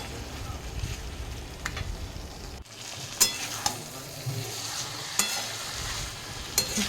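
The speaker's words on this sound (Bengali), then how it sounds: "চিংড়ি মাছটা দিয়ে আবার খানিকক্ষণ কষিয়ে নেব" Fried prawns stir-fried in a pan make a continuous close sizzle, broken by occasional sharp scrapes and knocks of the spatula against the pan.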